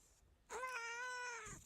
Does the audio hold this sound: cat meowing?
yes